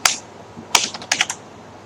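A file name is typed on a computer keyboard: a short, uneven run of crisp, close keystrokes in small bursts, with no talking.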